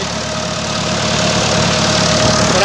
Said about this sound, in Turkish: Traktörümüz Masey 165'lik